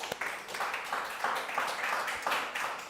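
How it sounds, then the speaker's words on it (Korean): A church congregation claps together during a Korean Sunday worship service, bursts of clapping rising and falling in waves over three seconds at moderate volume, fairly close, without talk. "하나님께 영광의 박수로."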